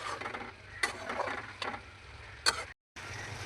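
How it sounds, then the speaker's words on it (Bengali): Taro stolons and spices frying in a pot while being stirred, a soft continuous sizzle broken by a few distinct scrapes and knocks of the spoon, fairly quiet and close. "নাড়াচাড়া করে দিচ্ছি"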